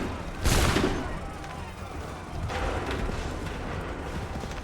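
A musket volley in Assassin's Creed III erupts as one loud, close crackling blast of massed gunfire, followed by a second, more distant rolling volley over battlefield din.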